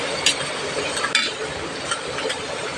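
Cooked pork kare-kare ingredients with peanuts are mixed in a large container, producing scraping, clinking stirring sounds with a few sharp utensil knocks over a steady background.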